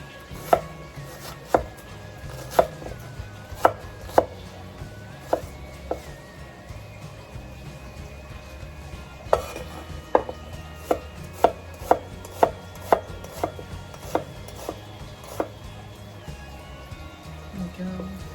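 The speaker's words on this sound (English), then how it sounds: "Slice the onion. Your onion doesn't need to be small. You can just roughly cut it." A knife roughly chops an onion on a board in clusters of crisp, close thuds with brief pauses between them, while a voice talks over the cutting.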